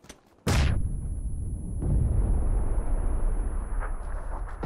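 A grenade explosion in PUBG lands as a sudden loud blast after a quiet moment, followed by a long rumbling roar that keeps rolling through the rest of the moment with a few smaller pops.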